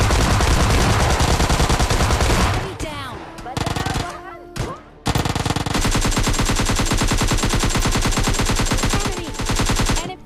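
Rapid automatic gunfire from PUBG Mobile Lite, a loud, dense stream of shots that breaks off briefly mid-fight before resuming in sustained bursts.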